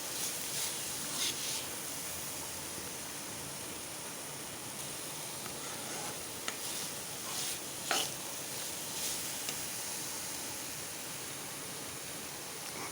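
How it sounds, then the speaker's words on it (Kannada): A Malnad-style Havyaka vegetable palya fries quietly in a pan, a soft, even hiss with occasional faint taps and stirs, heard alone and fairly low. "ಫ್ರೈ ಆಗ್ತಾ ಇದೆ."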